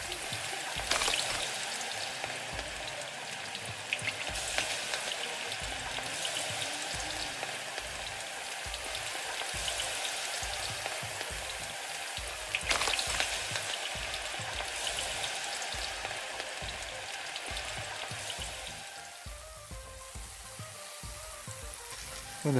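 Food sizzles in a frying pan inside the cooking game Venba, a steady crackling hiss that carries on for the whole stretch with brief louder spurts and eases off near the end.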